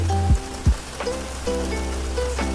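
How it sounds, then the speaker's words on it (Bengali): Heavy rain falls outside a window, a steady patter with a few sharper thumps and tonal sounds mixed in, heard from indoors without talk. "চা খেতে খেতে জানলা দিয়ে বৃষ্টি পড়া দেখছি বেশ ভালোই লাগছে"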